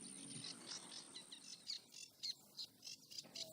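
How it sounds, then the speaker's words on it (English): Reed warbler singing from a reed bed in the French wetlands, a run of short, bright chirping and churring phrases in irregular bursts, fairly close and clear over a steady high hiss of background insects. "That's a reed warbler."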